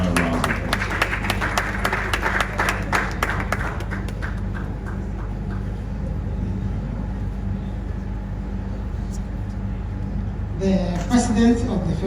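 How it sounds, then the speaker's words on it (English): A crowd at a hotel commissioning ceremony in Ibadan, Nigeria claps in a burst of scattered applause that tapers off within a few seconds, followed by a low murmur and quiet. "Can you please give her a round of applause?"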